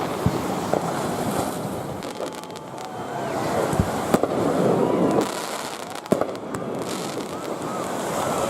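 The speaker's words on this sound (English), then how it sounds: "So the firework already started here." Fourth of July fireworks over Miami Beach pop and crackle at a distance along the shore, with a few sharper bangs standing out over steady surf and crowd murmur.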